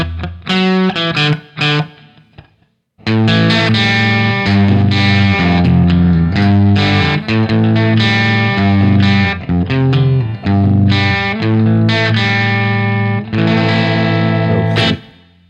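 A 1959 Les Paul Junior electric guitar played through a Marshall amp with heavy distortion, loud gritty chords and riffs, a short opening phrase, a brief pause, then sustained driving strumming close up, with no talk.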